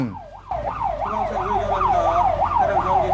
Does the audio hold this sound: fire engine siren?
yes